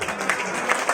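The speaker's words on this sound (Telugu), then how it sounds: "క్లాప్స్." An audience at a meeting about crypto coin mining gives a quick burst of applause, a dense patter of claps lasting about a second.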